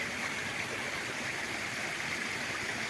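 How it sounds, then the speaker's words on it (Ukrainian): Small mountain stream in the Carpathians flowing steadily, a continuous close hiss and rush of water with no pauses and no voices. "А ось це йде потік, називається."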